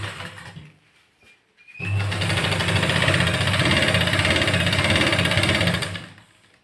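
A sewing machine stitches a salwar. Quiet handling sounds come first, then a loud, fast, even mechanical whirr and rattle that runs steadily for about four seconds before stopping.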